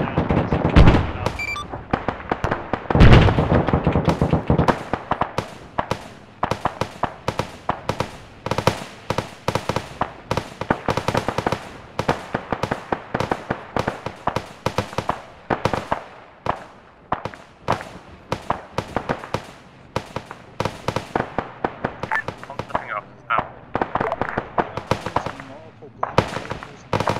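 Sustained firefight at a checkpoint in a military video game, with dense, rapid bursts of automatic gunfire and sharp single shots cracking continuously, loud and close. A heavy blast lands early on, and voices speak faintly beneath the shooting.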